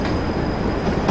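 A Class 31 diesel locomotive moves on the Stoke Ferry Branch in Train Simulator 2016, a steady loud rumble of engine and rolling stock with faint rail clatter.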